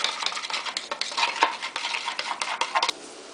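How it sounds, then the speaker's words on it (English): Split peas being stirred into lemon and garlic juice for a vegetarian green split pea soup, a quick run of close scraping and clinking spoon strokes against a bowl, fairly loud and without speech. "Could put it in that lemon and garlic juice and mix."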